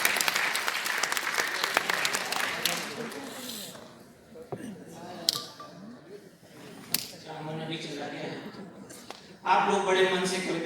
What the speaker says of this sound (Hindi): इसलिए जोरदार तालियां बजा दीजिए।